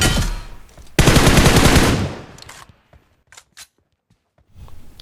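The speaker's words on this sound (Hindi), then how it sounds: "तभी असली गोली चलने लगती है कहीं से" Loud bursts of automatic gunfire rattle through a battle royale video game, a dense sustained volley followed by a few scattered, fainter single shots and short pauses.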